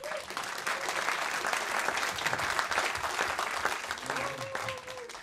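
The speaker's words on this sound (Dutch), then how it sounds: "Ik wou vragen om hem een heel groot applaus te geven." An audience breaks into sustained, dense applause for a singer, loud and continuous throughout, with a voice briefly heard over it near the end.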